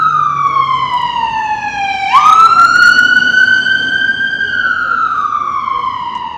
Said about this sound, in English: Parked next to a cab with sirens.